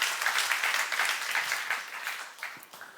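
A church congregation applauding together, dense steady clapping from many hands in a reverberant hall, slowly thinning toward the end.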